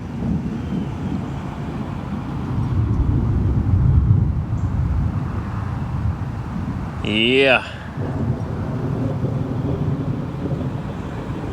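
A 1953 Pontiac Chieftain's straight-eight engine runs rough outdoors, a steady low rumble mixed with wind buffeting the microphone, with a brief voice and a short sharp noise partway through.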